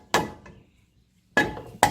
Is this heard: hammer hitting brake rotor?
yes